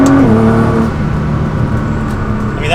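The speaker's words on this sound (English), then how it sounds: "So we'll do second gear and pin it and see what this one is like." A Nissan GT-R with a Stage 2 tune accelerating at full throttle in second gear, a loud, steady engine roar with rising pitch heard from inside the car.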